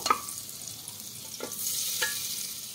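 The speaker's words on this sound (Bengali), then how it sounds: "এবার তেলের মধ্যে বাটারটা দিয়ে দেবো। দিয়ে একটু হালকা নাড়াচাড়া করে নেব।" Butter going into hot oil for chicken soup gives a soft, steady sizzle, broken by a few light scrapes of a stirring spoon against the pan. Nobody speaks.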